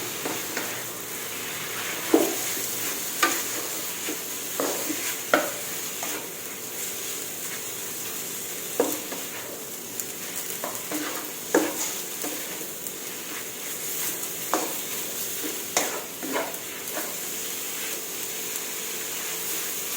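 Pork stir-fried in hot oil for a Thai curry with Chinese greens and shrimp paste, a steady loud sizzle with repeated scraping stirs and clinks of the utensil throughout, no voices.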